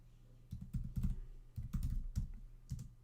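Typing on a computer keyboard: quiet clusters of keystroke clicks in short irregular bursts separated by brief pauses, close and alone with no talking.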